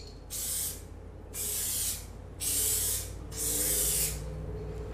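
Spray paint from an aerosol can lays a second coat over primer on a car panel in four separate hissing bursts, each about a second long, with short pauses between them.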